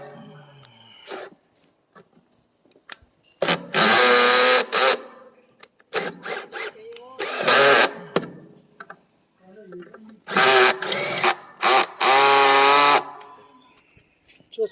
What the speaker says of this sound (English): I need a new drill.